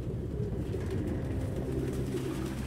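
Pigeons coo softly and repeatedly in Detroit: Become Human, a low, steady murmur of birds close by against a dense ambient background, with no one talking.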